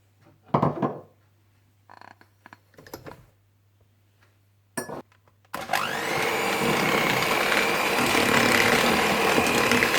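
Butter with caster sugar and brown sugar, for chocolate chip cookie dough, is beaten by an electric mixer that starts midway with a loud, steady whirring drone, after several brief knocks and clatters of bowl handling in near silence.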